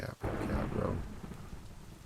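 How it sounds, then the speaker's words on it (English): Thunderstorm in Minecraft with the TerraFirmaGreg modpack: a low rumbling roll of thunder swells near the start and fades into a steady wash of rain that carries on to the end. "Oh, we got a thunderstorm."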